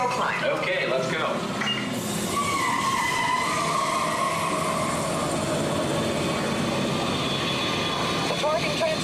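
A test vehicle pulls off to start the hill climb on the EPCOT Test Track, its loud motor whine rising and sustained with a tire-like rushing roar, while speech mixes in over the ride noise.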